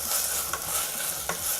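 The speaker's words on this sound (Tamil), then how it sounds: "இதோட பச்சை வாசம் போகிற வரைக்கும் நல்லா இதை வந்து வதக்கிடலாம்." Ginger garlic paste sautés in a pan for chicken biryani, a soft steady sizzle broken by a couple of brief scraping stirs, fairly quiet and close with no voices.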